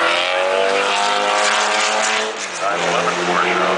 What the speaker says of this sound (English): 9-11 Porsche out there